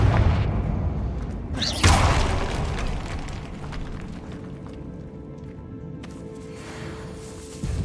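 A Confringo spell bursts in Hogwarts Legacy: one heavy, booming explosion hits near the start, then rumbles and fades slowly into a low, steady background.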